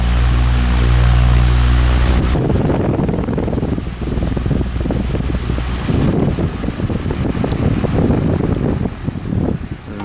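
An electric household fan with a newly replaced motor whirs loudly and steadily, then a switch click leads to a faster, gustier rushing of air with a windy buffeting on the microphone.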